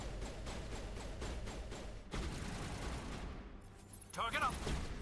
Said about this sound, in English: Here, you shoot him.